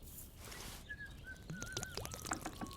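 Beer pours in a short splashing gush in the video game Kingdom Come Deliverance 2, then stops, followed by faint thin whistling tones and light clinks.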